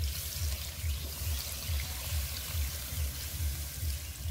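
Water poured steadily into a pot of braised chicken curry, a continuous close splashing pour with a low rhythmic gurgle running throughout.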